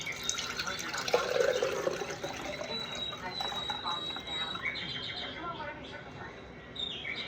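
Homemade butter rinsed under a running kitchen tap, giving a soft steady stream of water splashing and trickling at moderate distance; a voice speaks quietly over it.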